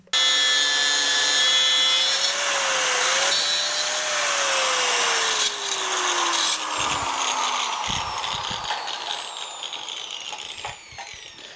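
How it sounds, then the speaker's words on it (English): An angle grinder cuts off protruding steel on a Dodge truck's custom steering. The loud, close, high-pitched whine shifts as the disc bites, then winds down and trails off with a few knocks. "I'm going to go ahead and take the grinder. I'm going to cut that off so it doesn't interfere with the U-joint."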